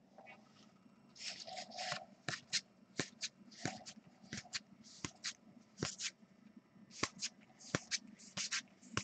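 Paper wrapping is torn off 2018 Bowman Draft baseball card packs, making quiet, close crinkling and ripping rustles that come in irregular quick bursts with sharp snaps between them.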